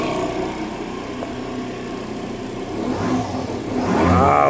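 A restored Aprilia SR50 Factory DiTech scooter's small two-stroke engine revving, a buzzing idle that climbs into a louder, higher whine near the end, heard close up with no talking.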